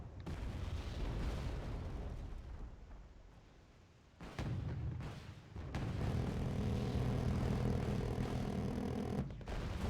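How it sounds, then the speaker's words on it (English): A Tunguska anti-aircraft gun fires in a video game, sustained rapid-fire bursts with a heavy rumbling roar, two loud stretches separated by a brief lull, dense and close. "don't you love the sound of Tunguska's firing?"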